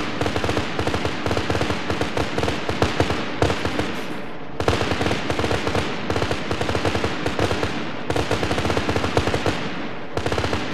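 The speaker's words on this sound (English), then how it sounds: "Hit him with some cannon." Rapid, continuous heavy autocannon fire in the game Arma 3, loud and sustained volleys with brief pauses.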